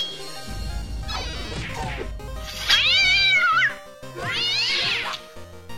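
A cat yowls and meows loudly in drawn-out, wavering cries while fighting a mantis, with a sharp thwack and scuffling between them, close by.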